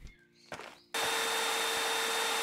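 In the video game Garage Flipper, a few soft clicks come first, then a vacuum cleaner on a garage floor switches on abruptly and runs with a loud, steady whine.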